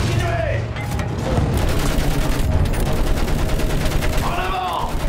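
Machine gun fire in a Battlefield 1 trench battle, continuous loud rapid rattling with booms mixed in, while voices shout over the shooting.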